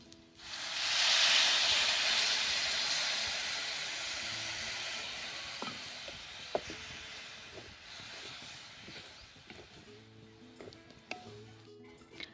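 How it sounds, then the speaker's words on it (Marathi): Water poured into a hot pan of sautéed fresh turmeric vegetables sets off a loud burst of hissing steam that slowly fades into a softer simmer, with occasional spoon clinks against the pan. "आता भाजी परतली आहे आता यामध्ये आपण पाणी टाकूया"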